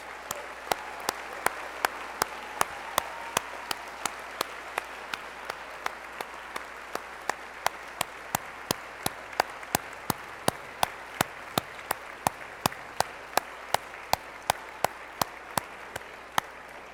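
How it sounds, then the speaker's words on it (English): Friends and family applaud the medical school class at a white coat ceremony, a steady wash of clapping throughout with sharp, loud individual claps standing out at regular intervals nearby. "let's give them all a round of applause"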